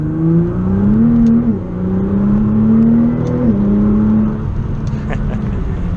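A Nissan GT-R engine pulls steadily under light throttle in second gear, its tone rising and dipping between gears, loud and close, no talk.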